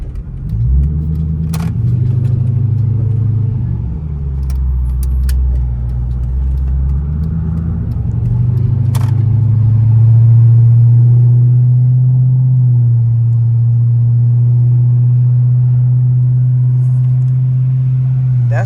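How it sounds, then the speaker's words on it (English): A Hemi car with straight-piped exhaust accelerates from a standstill to about 40, giving a loud, deep, continuous rumble that rises steadily in pitch and intensity, heard from inside the car with occasional faint sounds in the cabin. "The straight pipe go crazy."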